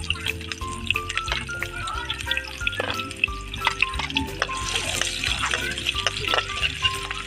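Onion frying in a pan while Bicol Express is cooked, a steady close sizzle with occasional stirring clinks, continuous throughout with a few brief background noises.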